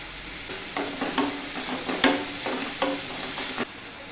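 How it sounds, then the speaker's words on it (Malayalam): Onions fry with salt in a pan over low heat, a quiet hiss broken by a run of spatula scrapes and taps, one clearer knock in the middle, then a sudden stop. "സവാളയൊക്കെ ഒരു ലൈറ്റ് ബ്രൗൺ കളർ ആകും വരെ ഇതുപോലെ ഇളക്കിക്കൊണ്ടിരിക്കും"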